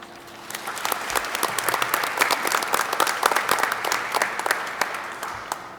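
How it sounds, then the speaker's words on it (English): Audience at an April 2025 Northwest board of education meeting claps steadily for an award honoree, a dense, fairly loud round of applause lasting several seconds with no talking over it. "I'd like to just recognize her and give her a quick round of applause."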